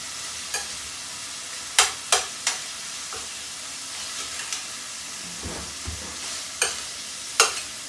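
Pieces of meat brown in a hot pan for a Hungarian dish, with a continuous low sizzle. Several sharp, close scrapes and clacks of a utensil stirring the pan come at irregular intervals.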